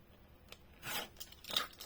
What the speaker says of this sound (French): je le coupe juste après le trait doré